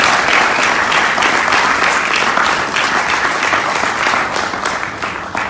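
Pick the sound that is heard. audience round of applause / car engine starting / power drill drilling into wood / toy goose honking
audience round of applause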